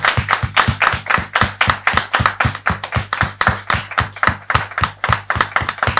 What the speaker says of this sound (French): On peut le recevoir avec des applaudissements plus nombreux